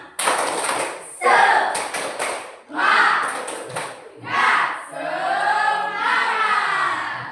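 A group of schoolchildren in a classroom do a rhythmic spirit clap with excited voices, the claps rising and falling over several seconds, close and loud.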